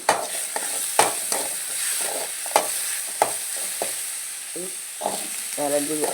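A brinjal curry base with garlic fries in a pan, giving a steady close sizzle punctuated by sharp clanks and scrapes of a spoon stirring, with brief faint voices near the end.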